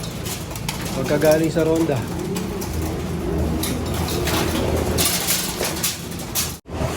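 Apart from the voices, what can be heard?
pigeons returning to their loft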